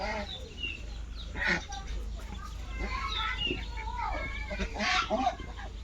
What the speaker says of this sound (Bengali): এই তো পঞ্চাশটি হাঁসের বাচ্চা কিনছি তো এগুলো কিন্তু পাতি হাঁস